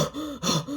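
A voice imitates someone out of breath with quick, heavy panting gasps, about three rhythmic breaths close to the microphone with no other sound.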